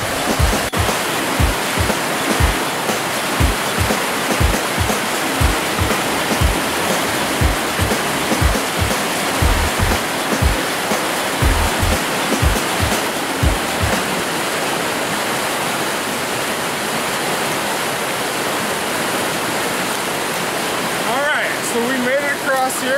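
A creek flows steadily through woodland, with a continuous rushing, splashing wash of water close by and a run of rhythmic low thuds like footsteps over the first half.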